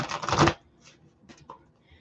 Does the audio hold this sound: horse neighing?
no